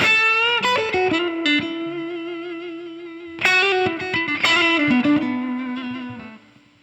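A distorted electric guitar plays a minor blues lick with raked picking, bends and sustained notes, loud and close with some effects colouring, about seven seconds of solo playing without speech.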